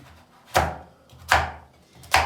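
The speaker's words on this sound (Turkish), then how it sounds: "şunları da bir doğrayalım." Three sharp knife chops through squash on a cutting board, spaced about a second apart, close and crisp with quiet pauses between strokes.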